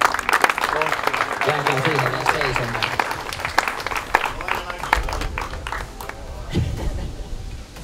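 At a padel tournament, loud crowd applause rings out close by, then thins into scattered claps as a voice speaks over it.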